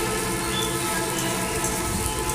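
Sidol paste fries with green chili paste in a pan, giving a continuous, even, loud sizzle and crackle with no talking.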